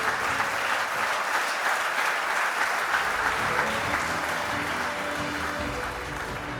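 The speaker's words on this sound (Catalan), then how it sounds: "Un aplaudiment." Sustained audience applause at a sports awards night in Sant Pol de Mar, a steady dense patter of many hands, moderately loud and even throughout with a faint murmur of voices underneath.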